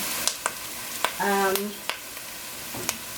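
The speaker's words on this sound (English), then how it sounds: "I also put some shallots in here actually." Shallots frying in a pot for dandelion soup, a soft background sizzle broken by sharp clanks and scrapes of a utensil against the pot and a brief tonal squeak, close by.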